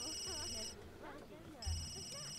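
A telephone rings in The Sims 3, a short electronic trill that sounds in two bursts with a gap between them, moderately loud, while someone talks over it and soft game music plays underneath.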